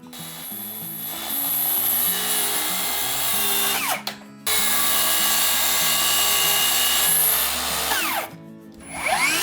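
A power saw cuts hinoki cypress planks to uniform length in two loud sustained passes, its whine steady through each cut. A brief drop to quieter idle comes between them, and it spins down at the end.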